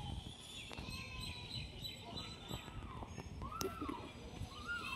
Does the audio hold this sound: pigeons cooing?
yes